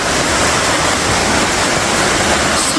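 Water rushes loudly and steadily down Sliding Rock, a natural rock-slide waterfall in Pisgah Forest, a dense unbroken roar heard close up with no voices.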